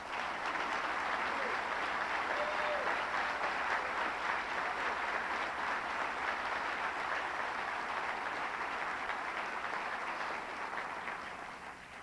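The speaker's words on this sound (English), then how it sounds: "I wonder if you'd give a big round of applause for that video tribute" A banquet audience honouring Sylvan Rodriguez applauds a video tribute, a full room of dense, steady clapping that holds evenly for about twelve seconds and then tapers slightly at the close.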